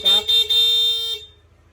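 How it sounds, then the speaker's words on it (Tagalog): A PIA auto-style dual horn on a Yamaha NMAX V2 scooter sounds in short bursts: two quick honks followed by a longer sustained blast of about a second, loud and close, with steady tones that cut off cleanly. "nagpa-install din si sir ng busina, PIA auto style horn. So dual horn setup."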